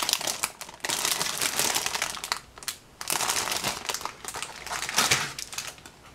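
A plastic bag holding the parts of a MiniArt Harley-Davidson motorcycle model kit is handled close up, giving bursts of crinkling and crumpling with brief pauses, no talk.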